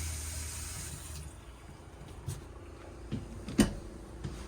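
Water runs from the kitchen faucet into the sink of a 2022 Forest River Salem FSX Platinum 270RTKX travel trailer, a soft steady hiss that stops after about a second, followed by faint clicks and handling knocks.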